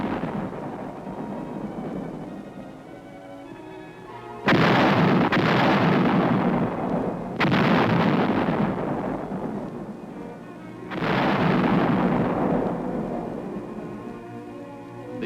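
155 mm howitzers firing artillery in Seoul during the 1951 Korean War, heard on an old newsreel: three heavy booming blasts, each followed by a long rolling rumble, loud and dominant with no talk.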